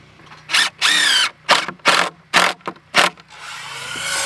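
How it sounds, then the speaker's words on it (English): A power drill drives screws into wood in a string of short, loud whirring bursts, each rising in pitch, with pauses between, heard up close while building a generator shed at an off-grid homestead in Alaska. "So we're going to screw it in 4 inches down"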